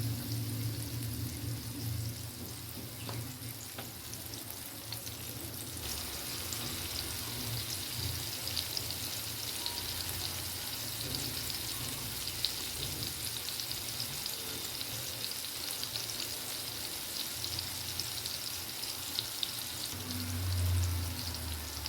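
Crosswise-cut surmai (kingfish) slices frying in a pan, a continuous, fairly soft crackling sizzle with small popping spatters that carries on evenly for a long stretch, no voices.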